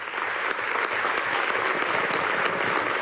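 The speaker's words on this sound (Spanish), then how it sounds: "vamos a darle un aplauso" Dense, steady applause from a large crowd at a Universidad Simón Rodríguez event in Venezuela marking 14 years free of illiteracy, continuous and loud throughout.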